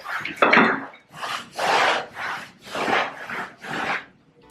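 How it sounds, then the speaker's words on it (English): Wallpaper being scraped off a wall, a series of four or five rough rasping strokes, close and fairly loud, each lasting about half a second with brief pauses between. "A bit of wallpaper off. I'm going to end up gouging the wall out."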